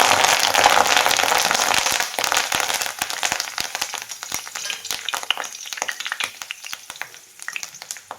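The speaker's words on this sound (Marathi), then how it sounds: "हा कढीपत्ता मी छान असा तेलामध्ये तळून घेणार आहे" Fresh curry leaves dropped into hot oil in a home kitchen, a loud dense sizzle that bursts with sharp crackling pops and slowly thins out into scattered spits and crackles.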